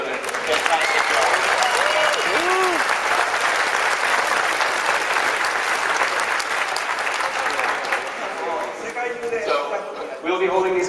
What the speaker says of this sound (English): let's give a big round of applause for our orchestra today, who's done a fantastic job.